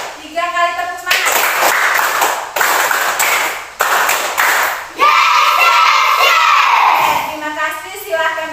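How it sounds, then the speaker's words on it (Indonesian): Schoolchildren in a classroom clapping in group rhythmic spirit claps, sharp bursts of hand claps in repeated sets, with a voice and group chanting between them. "Tiga kali tepuk semangat."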